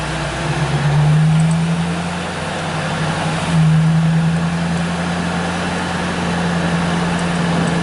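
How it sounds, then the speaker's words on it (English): A 1934 Ford 5-window coupe with power steering drives through a wide U-turn, its engine droning steadily from inside the car with two rising swells of revving over constant road noise. "Make a wide U-turn here. Thank God for power steering."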